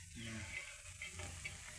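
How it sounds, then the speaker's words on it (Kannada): Sliced vegetables frying in a little oil on a flat pan, a soft steady sizzle with light stirring scrapes, close and quiet, with no talk. "ಇದಕ್ಕೆ ಒಂದು ಸ್ವಲ್ಪ ಚೆಂದಾಗಿ ಎಣ್ಣೆ ಹಚ್ಚಿ ಹುರ್ಕೋತೀನಿ ಹಂಚಿನಾಗ"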